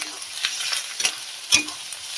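Okra paste fries together with ginger-garlic paste as a spice mixture, a steady soft sizzle close by with a few sharp scrapes of a spoon against the pan and no talking.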